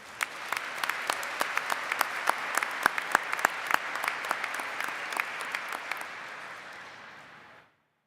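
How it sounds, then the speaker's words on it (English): A large commencement audience at a SUNY Poly College of Nanoscale Science and Engineering ceremony applauds. The clapping is steady and dense, with a few sharp louder claps standing out, and runs for about seven seconds before stopping abruptly. "Will we please give her a round of applause?"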